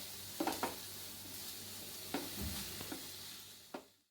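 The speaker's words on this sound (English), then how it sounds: "Saute this for a minute on high flame" Paneer cubes stirred and sautéed in a pan over high flame, with a low steady sizzle and a few sharp scrapes and knocks of the spoon against the pan, spaced out and fairly faint, no voices.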